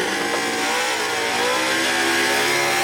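Gasser drag race cars at a Knoxville event rev hard at the start line, a loud, sustained roar of engines close by with no voices over it.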